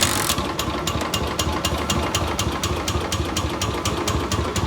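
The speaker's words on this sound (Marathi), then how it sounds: "रेस न करता, RPM न देता ही बाईक फक्त वन हँड किकवरती स्टार्ट झालेली आहे।" A serviced Royal Enfield Standard Bullet 350 starts on a single kick and settles into a loud, close idle, its steady single-cylinder thump repeating evenly with no voices over it.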